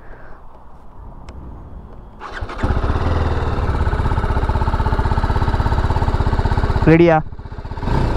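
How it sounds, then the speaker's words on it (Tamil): TVS Apache RR310 motorcycle engine starts at about two seconds, then idles with a loud, steady, close exhaust note. The rumble swells briefly near the end and then dips, and a short spoken question comes before the start. "எக்ஸாஸ்ட் நோட் கேட்போமா"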